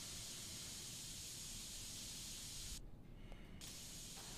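Spray painting a computer in the PC Building Simulator 2 video game, a continuous faint aerosol hiss that briefly thins out in the middle before resuming.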